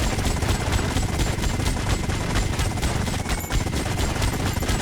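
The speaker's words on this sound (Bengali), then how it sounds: "ভাই, গুলি কর, গুলি কর, পাখাতে গুলি কর" Rapid, continuous automatic gunfire in a shooting video game aimed at a helicopter, dense loud bursts filling the whole stretch with no talk heard.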